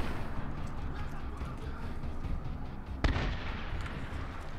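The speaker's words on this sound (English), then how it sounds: "Grenade out!" A single sharp grenade blast in Medal of Honor cracks out once amid steady battle rumble, brief and moderately loud before the background noise carries on.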